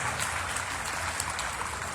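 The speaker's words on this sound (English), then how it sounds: "High round applause for the Pingree family, standing on 410." Audience applause at a heavyweight class event at the Florida State Fair, steady dense clapping from a large crowd filling the whole stretch as a continuous wash of sound.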